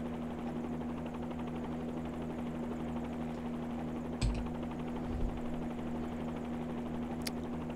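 A helicopter rotor drones steadily in Microsoft Flight Simulator, a constant low hum with faint thumps and clicks, no voices over it.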